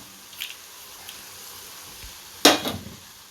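Dried fish stir-frying in a pan with chillies and curry leaves, a quiet sizzle with faint scraping that swells into one loud stirring burst near the end.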